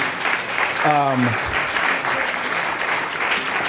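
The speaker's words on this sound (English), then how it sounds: "let's please give another round of applause for Mr. Mark Morial" An audience at a National Urban League advocacy conference session gives a sustained round of applause for Mark Morial, with a voice briefly heard over the steady clapping.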